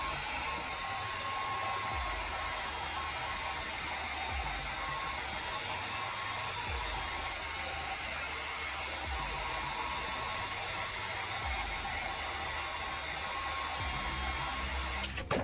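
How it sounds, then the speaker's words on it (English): A heat gun blows with a constant, fan-driven hiss while warming a plastic face plate for a mask build, steady and close throughout with faint periodic low thumps. "Just slowly work around, heat up the plastic, mold it to your helmet."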